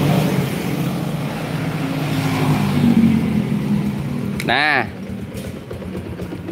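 A car engine in a repair workshop runs at a steady idle under close talk, with a brief sharp rev near the end before it settles back down.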